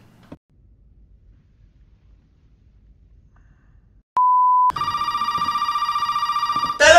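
A short steady beep sounds, then a loud electronic phone ring trills on rapidly for a couple of seconds after near silence, from the game Resident Evil 7 played in VR.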